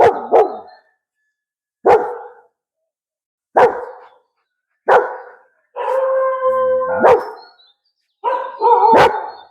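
Dogs eager to go for a car ride bark and howl close by in loud, excited bursts spaced a second or two apart, with one drawn-out howl in the middle and no talk.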